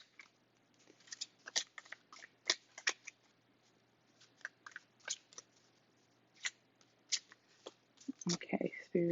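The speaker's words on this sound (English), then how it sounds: "Some of y'all like to see me shuffle" Tarot cards are shuffled in quick, crisp bursts of riffling and tapping, close and fairly quiet, with brief pauses between bursts and a little rustling at the end.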